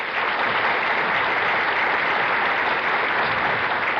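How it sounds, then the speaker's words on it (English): Studio audience at a classic televised bowling game show breaking into sustained, dense applause, a steady even wash of clapping with no voices over it. "I don't know whether you're applauding because he said City of Hope or the name Hope was in it."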